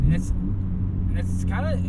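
A 1998 Honda Civic CX with a non-VTEC engine gives a low, steady exhaust grumble without peaking, running continuously beneath a voice.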